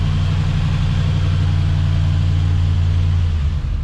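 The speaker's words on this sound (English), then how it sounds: "See if it idles. Oh, it even idles." An LS-swapped square-body pickup truck idles just after its first start, a loud, steady, low rumbling idle heard close up and alone, dipping briefly at the very end.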